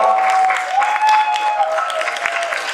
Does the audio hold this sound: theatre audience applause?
yes